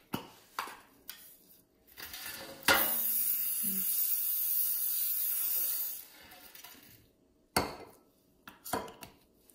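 Oil is sprayed in a long, steady hiss over seasoned potato wedges in a dish, with short knocks and clatters before and after, all close by.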